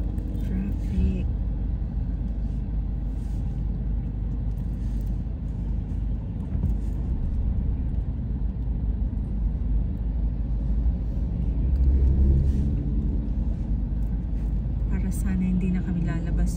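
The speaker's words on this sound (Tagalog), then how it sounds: "Traffic." Road traffic rumbles in a continuous low drone of passing vehicles that swells briefly toward the end, with voices mixed in.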